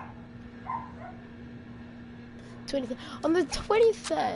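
Dog barking and yipping in the background of a home stream, a few short barks growing louder toward the end while a person talks.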